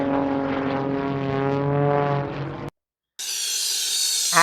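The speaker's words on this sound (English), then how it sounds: "biplane," Propeller engine of a biplane droning loudly in flight, then a short silence, then a higher-pitched buzzing engine roar.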